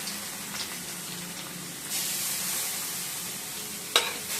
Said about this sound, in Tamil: இப்போ அந்த நெய்ல வந்து பூசணிக்காய் போட்டுக்கலாம்